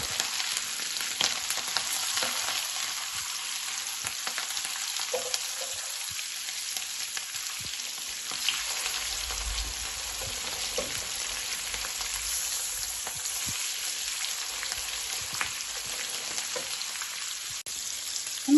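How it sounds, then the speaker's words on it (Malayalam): Sardines fry in oil in a covered pan, giving a dense, steady sizzle and crackle that stays close and even throughout, with occasional soft knocks and no speech. "ഇനി നമുക്കിതൊന്ന് മൂടി വെച്ച് ഫ്രൈ ചെയ്യാം"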